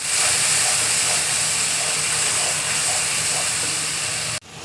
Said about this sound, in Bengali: এবার দেখো শুকনো লঙ্কা ফোড়ন দিয়ে দিচ্ছি।